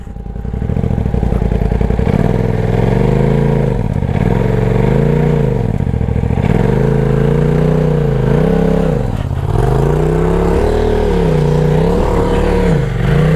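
A turbocharged Polaris RZR off-road vehicle reverses up a rocky obstacle at Moody Hill, its engine loud and close, revving and dropping in repeated surges with rattling clatter throughout.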